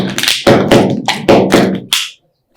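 Hands tapping on a bottle and a chair to build a rhythm, a handful of close, dull thumps and knocks in quick succession, ending with a short silence.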